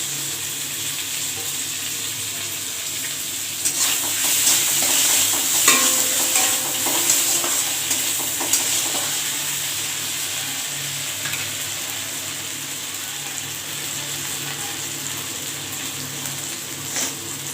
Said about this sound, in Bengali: এরপরে একটু পোস্ত দিয়ে অ্যাড করলাম